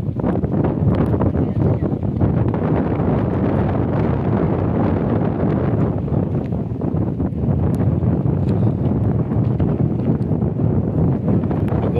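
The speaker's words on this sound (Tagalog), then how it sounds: "Medyo malakas ang hangin." Strong wind on an island buffets the microphone in a constant, loud roar with gusty fluctuations throughout.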